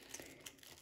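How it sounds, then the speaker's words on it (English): Plastic film on a microwave meal crinkles and tears in a brief, faint close-up rustle as it is cut to vent. "Cut film to vent."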